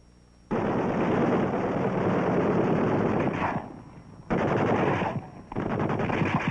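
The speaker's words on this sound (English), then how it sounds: "The UH-1A's two fixed-mount 30 caliber machine guns are mounted forward on the skids, one on each side." Two skid-mounted 30 caliber machine guns on a UH-1A helicopter firing in long, loud continuous bursts, broken by short pauses, with no talking over them.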